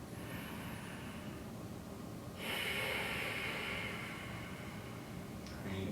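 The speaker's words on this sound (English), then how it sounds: "And you're taking 5 deep breaths here." Deep, audible breaths during a yoga forward fold, with a long airy exhale swelling about halfway through over a steady soft background hiss.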